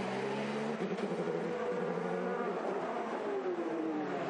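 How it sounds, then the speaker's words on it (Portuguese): An IndyCar race car engine at the 2018 Long Beach race, a high, buzzing whine that rises and falls in pitch as the car passes, heard faintly through a broadcast feed without commentary. "Que dá pra ouvir o motor do carro dele."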